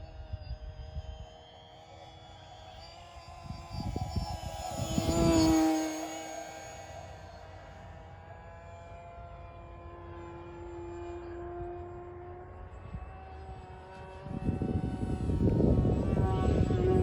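An E-flite SE5A 900mm radio-controlled model World War I biplane flies with a steady, buzzing electric motor drone that swells as it passes close and changes pitch through manoeuvres, fairly loud with some wind rush.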